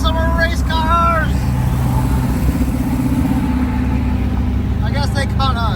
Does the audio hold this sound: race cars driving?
yes